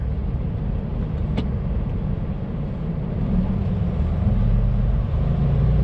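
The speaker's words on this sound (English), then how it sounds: "little bit of traffic here in Austin" Road traffic in Austin in the early afternoon gives a steady, loud low rumble of passing vehicles that continues without a break, with no talking.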